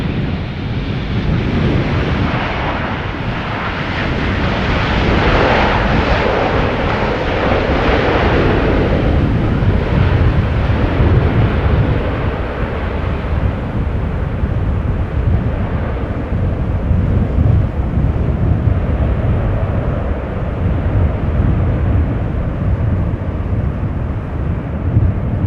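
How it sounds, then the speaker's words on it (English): A KLM Boeing 777-300ER arriving at Amsterdam Schiphol on a breezy day after a storm gives a continuous broad jet roar that swells and then slowly recedes, mixed with buffeting wind on the microphone. "this is KLM Flight 792, arriving from Rio de Janeiro,"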